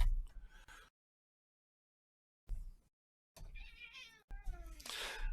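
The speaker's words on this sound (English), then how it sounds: "My kitty is saying hello." A pet cat meows several times close by, short bursts separated by silent gaps, with a final longer, higher-pitched meow.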